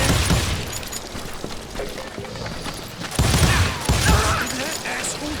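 Western-style gunfight in the video game Call of Juarez: Gunslinger: repeated sharp gunshots crack over a busy, noisy backdrop, with louder clusters of shots toward the end and some voice in the mix.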